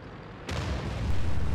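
A tank cannon in a tank combat game fires with a sudden heavy boom, leaving a low rumbling roar that swells and lingers afterward; no one speaks.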